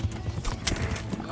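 Horse hooves clip-clop at a steady riding pace in the medieval game Kingdom Come: Deliverance, with a brief whinny, close and moderately loud under game sounds.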